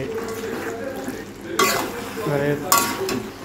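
Pre-fried potatoes stirred into mutton curry in a metal pan, with soft sizzling and scraping of a spoon, two sharper clatters of utensil against pan, and a voice talking over the cooking.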